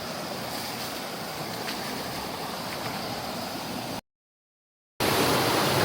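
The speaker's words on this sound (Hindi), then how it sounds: "ये है जी बड़ी आबशार," Fast-flowing water nears a large waterfall on a forest stream trek, a dense, loud and unbroken roar close by that cuts out completely for a moment before resuming just as strongly.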